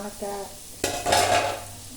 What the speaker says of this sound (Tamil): ரால் பொரிஞ்சிக்கிட்டு இருக்கு